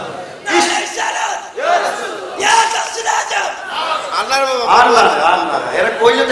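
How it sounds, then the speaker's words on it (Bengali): A large crowd shouts the Takbir chant back in loud, repeated waves of massed voices, answering a call of Nara-e-Takbir at a religious gathering. "জোরে জোরে নারে তাকবীর"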